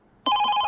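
Telephone ringing in a chiropractic clinic advert: a loud electronic ring bursts in abruptly after a brief silence and holds steady, with no voices over it.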